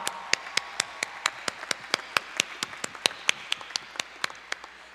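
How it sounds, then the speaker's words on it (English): Sparse, evenly spaced hand claps ring out one after another, about four per second, crisp and fairly close, from a small number of people at a 2011 college commencement. "Give yourselves a round of applause."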